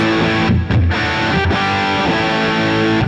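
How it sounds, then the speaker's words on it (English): A thick, heavily distorted electric guitar chord rings out loud and sustained, smeared by echoing repeats and a wash of reverb. "you can hear there's some delay and some reverb on there."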